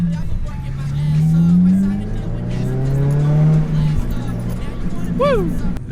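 An 8th-generation Honda Civic Si runs loud, its engine droning and swelling through rising and falling revs. A short high squeal comes near the end.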